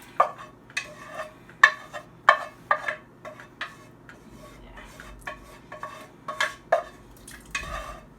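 Sauteed vegetables being scraped into borsch broth and stirred in a pot: a series of irregular close metallic clinks and scrapes of a utensil against cookware, with soft wet shuffling between the taps.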